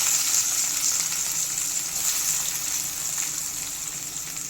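Whole spices and onion sizzle steadily in hot oil for a curry, a dense, continuous frying hiss that stays loud and even throughout with no talking.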